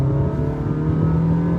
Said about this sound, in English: Ang ganda ng tunog nung engine.